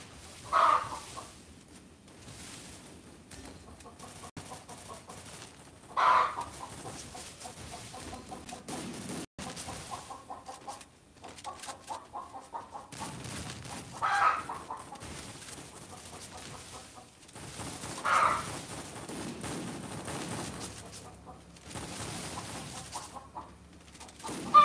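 A chicken clucks in the shooter game Free Fire, with short bursts of clucking recurring every few seconds over a quiet game background and occasional sharp clicks.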